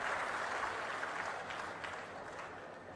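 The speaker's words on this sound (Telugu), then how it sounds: "గట్టిగా చప్పట్లు కూడా అభినందించండి" Crowd at a public government event in Narasannapeta applauding, a continuous distant wash of clapping, fairly faint, easing slightly over a few seconds.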